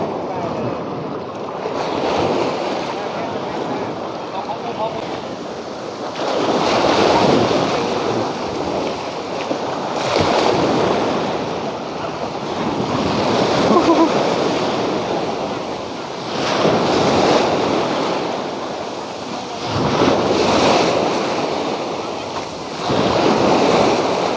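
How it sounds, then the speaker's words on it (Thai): Sea waves break on Hat Sai Kaeo beach between two headlands, rushing in loud, rhythmic surges every few seconds and receding in between, with wind buffeting the microphone. "อันนี้เป็นทะเล"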